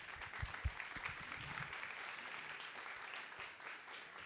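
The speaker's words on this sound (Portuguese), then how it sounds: "Palmas para o Pedro Doria" Applause from a book-fair audience welcoming a guest to the stage, a dense steady patter of many hands at moderate distance with a few louder claps near the start, continuing evenly without talk.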